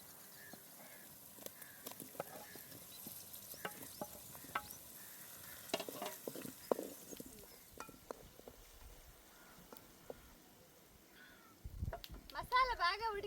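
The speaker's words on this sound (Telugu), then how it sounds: "ఇప్పుడు తరిగి పెట్టుకున్న టమాటా ముక్కలు వేస్తున్నా." Chopped tomato pieces go into hot ginger-garlic and onion paste in a pan, giving a soft sizzle with scattered stirring scrapes and clicks, growing busier near the end.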